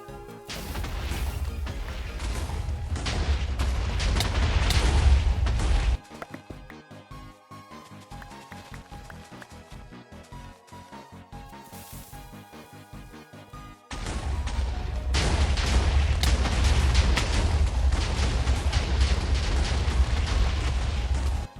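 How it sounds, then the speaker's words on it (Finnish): Explosions blasting out a large room for a farm in a Minecraft-style SMP survival game, loud rumbling booms filling the first six seconds, a quieter stretch in between, then another long burst of continuous blasts. "Kun sain ekan huoneen kaivettua, aloin räjäyttämään toista huonetta"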